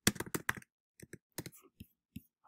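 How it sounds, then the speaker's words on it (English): Keys clack on a computer keyboard while a query goes into a search box: a quick close burst of strokes, then scattered single taps with short pauses between them, crisp and alone. "So I'm going to do that by typing into the search box."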